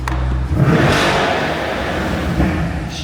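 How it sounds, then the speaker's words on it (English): A car engine revs loudly up close, a sustained mid-range roar that surges and holds steady for about three seconds with a brief swell near the end, with no talking. "Let's hear a little rev really quick."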